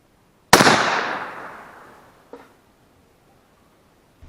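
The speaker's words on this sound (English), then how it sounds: "I'm gonna want to shoot that" A single sharp, loud report rings out from a 1912 Winchester 1895 rifle and decays over about a second and a half. A faint, brief click or knock follows shortly after, and no one speaks.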